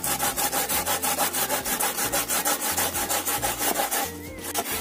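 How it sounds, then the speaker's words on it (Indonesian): Cassava is grated by hand on a grater to make lemet, with loud, close, rhythmic rasping strokes repeating about four times a second, then a short pause near the end. "Ini kita parut sampai selesai."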